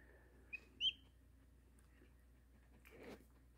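A just-hatched peachick gives two faint, brief chirps close together near the start, with a quiet background afterward.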